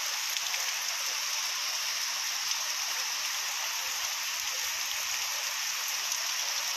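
Heavy morning rain in Berhampore pours in a dense, steady hiss, loud and even throughout, with no voices.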